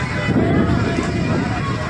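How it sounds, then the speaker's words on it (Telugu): Wind gusting across the open steps of a temple pond on a hilltop, a constant broad rushing roar buffeting the microphone, close and fairly loud with no clear voices. "గాలి వాతావరణం బాగానే ఉంది"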